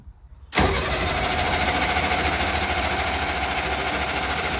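A broken military generator engine cranks over, bursting in loud and close after a moment of near silence and then holding a steady, dense mechanical churn to the end.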